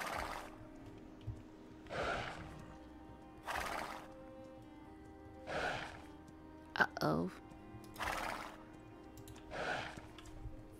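A frightened horse in the video game Star Stable Online whinnies again and again, about six loud neighs at a regular pace with quiet gaps between them. A voice makes a brief exclamation partway through.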